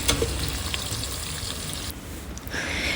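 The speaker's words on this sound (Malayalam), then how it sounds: "ബിരിയാണി ഇല, ഇതും കൂടി ചേർത്ത് നമ്മൾ എണ്ണയിലിട്ടത് നന്നായി പൊട്ടി വരട്ടെ" Bay leaf and whole spices splutter in hot oil for mutton biryani, a loud close crackling sizzle that briefly dips and then returns.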